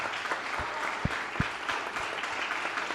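Congregation clapping during an evening church service, a steady wash of applause with a few sharper individual claps standing out, close and continuous throughout.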